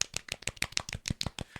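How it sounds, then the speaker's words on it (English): A small group gives a quiet, polite golf clap, about a dozen soft, evenly spaced claps close by. "Golf clap?"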